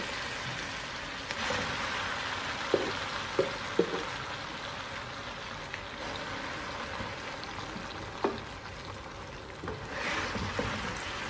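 Ground mustard greens and spinach hit a pan of browned garlic and crackle with a steady broadband sizzle, punctuated by a few soft clinks and knocks from stirring.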